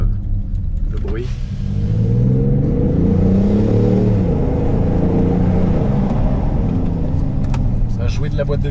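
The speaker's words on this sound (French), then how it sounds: "Pour un diesel, je trouve le bruit assez sympa." Diesel engine of a 2018 BMW X5 M50d climbing uphill, a deep steady rumble that rises in pitch as it revs through the gears, heard loudly from inside the cabin with a window slightly open, a voice speaking over it.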